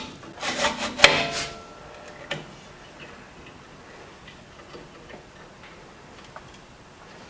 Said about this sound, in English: I can loosen a thumb screw